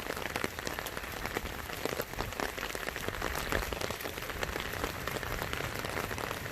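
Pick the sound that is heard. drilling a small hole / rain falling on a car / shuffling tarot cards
rain falling on a car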